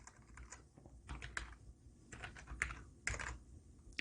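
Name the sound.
typing on a computer keyboard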